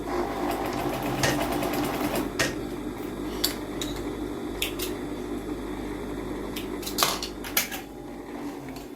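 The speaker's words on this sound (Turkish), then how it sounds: "Bu şekilde şimdi dikişini gerçekleştireceğim." Sewing machine running while stitching elastic onto a fabric face mask, a steady mechanical whir with sharper clicks and taps scattered over it, close and fairly loud, no talking.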